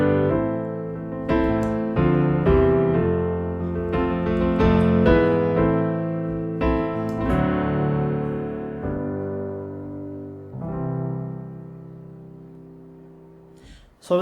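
A piano plays a simple chord progression in rich, full voicings, sustained chords struck one after another and left to ring, close and clear with no talking.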